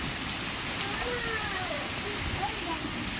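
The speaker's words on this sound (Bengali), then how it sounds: "এখনও পর্যন্ত বৃষ্টি থামার কোনো নামই নিচ্ছে না" Heavy overnight rain during a storm in a village, a dense and steady hiss of rainfall pouring down without a break, close and continuous.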